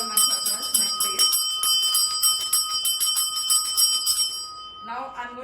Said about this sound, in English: I would take the bell. I'm showing it with the bell because it's easier for you. I would just ring it.